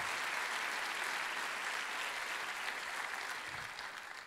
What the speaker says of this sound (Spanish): ¿Qué tal si los recibimos a ellos también con un buen aplauso?